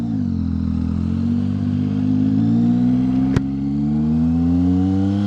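A Yamaha MT-09 SP motorcycle engine revs hard and climbs in pitch as it accelerates in first gear, loud and close, with one sharp click midway.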